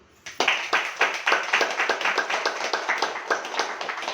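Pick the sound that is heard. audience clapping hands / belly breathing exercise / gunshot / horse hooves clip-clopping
audience clapping hands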